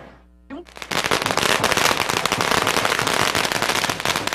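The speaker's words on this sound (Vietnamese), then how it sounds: "Phần đốt pháo mỗi lần hết sức vui nhộn" Strings of firecrackers explode at an outdoor Lunar New Year celebration in a Vietnamese community, a loud, dense, continuous crackling burst that starts abruptly after a brief voice and runs on without pause.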